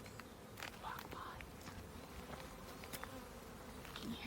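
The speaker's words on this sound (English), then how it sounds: "So I can hear the bees buzzing." Bees buzzing around a beehive beside an outdoor walking trail, a faint steady hum under a soft outdoor background with a few brief higher whines of individual insects passing close.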